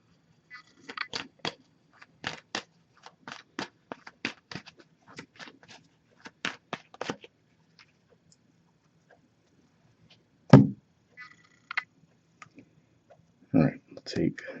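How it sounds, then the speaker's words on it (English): Quick, crisp flicks and riffles of a tarot deck being shuffled in rapid bursts, close by, with a pause and a couple of louder slaps near the end. "I'm just going to give this a few shuffles"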